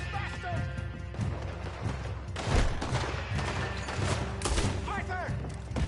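Gunfire in the video game Red Dead Redemption 2: several sharp shots and crashing impacts punch through tense shouted voices and a busy background.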